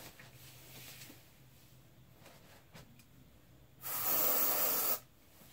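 An aerosol deodorant spray hisses in one steady burst of about a second, loud and close, after a stretch of quiet room sound.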